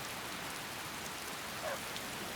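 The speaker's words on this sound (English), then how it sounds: "Yeah, the rain does look pretty good though" Rain falls steadily in Skyrim, an even, fairly quiet hiss of drops that stays constant throughout without any voices.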